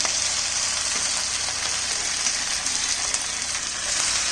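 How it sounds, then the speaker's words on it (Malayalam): A mix of fish roe, grated coconut and salt fries in a pan with a loud, even, continuous sizzle heard up close and alone. "നമ്മൾ മീനിൻ്റെ മുട്ടയും നാളികേരവും ഉപ്പും എല്ലാം കൂടി മിക്സ് ചെയ്ത് വെച്ചത് ഇതിലേക്ക് ചേർക്കാം."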